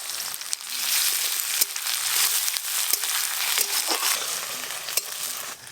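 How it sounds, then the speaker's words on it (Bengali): Onion, ginger and garlic paste fry in mustard oil with whole cumin, dried chilli and bay leaf, a steady close hiss and crackle with occasional scraping stirs cutting through. "আদা রসুন পেঁয়াজ তো ভালো করে ভাজা ভাজা করে নিয়েছি"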